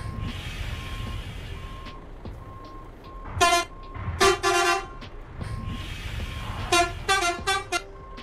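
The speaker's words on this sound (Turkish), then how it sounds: "Yine 5 tane havalı korna." Multi-tone air horns of a Temsa Safir II VIP coach in a driving simulator blare in two rounds of short honks, several loud chord-like blasts each, over a steady engine drone.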